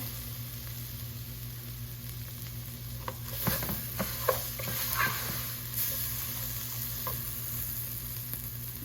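Mexican rice frying in a pan on the stove gives a steady close sizzle, with a few louder stirring scrapes and clinks partway through and no talking.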